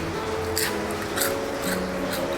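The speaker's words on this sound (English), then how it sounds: "It's crispy back leh, and there's oil dripping out from the fritters in the air fryer" Snake gourd fritters reheated in an air fryer at 180 degrees crackle and drip oil, giving several short, soft crisp bursts over a low steady fan hum.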